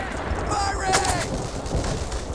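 Gunfire in the World War II shooter Brothers in Arms: Earned in Blood rings out as dense, loud bursts and booms, with a shouting voice mixed in with the shots.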